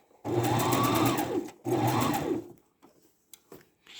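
A sewing machine stitching a fabric bin, with two bursts of steady, close mechanical whirring separated by a short pause for back stitching, followed by light handling clicks.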